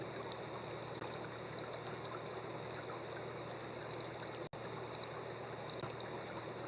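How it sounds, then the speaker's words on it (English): Flowing water of a stream, a soft continuous trickling rush, faint and steady with one brief click, no voices. "and just listening to the water."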